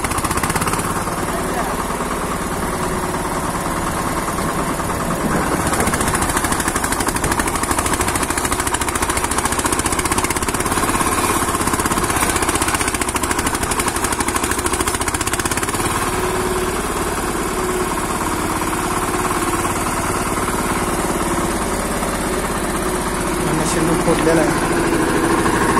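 A VST Shakti 130DI tractor pulling a sugarcane earthing-up implement rumbles with a steady, loud engine drone close by, unbroken for the whole stretch.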